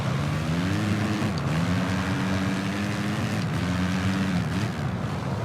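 Flat track motorbike engine racing in the VR46 video game at Jerez, a steady continuous drone with rising and falling pitch as the bike accelerates and slows, loud and close throughout.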